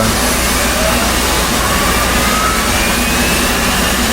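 The F/A-18C Hornet's auxiliary power unit spins up in DCS World, a loud, steady roaring whine that fills the whole stretch without a break.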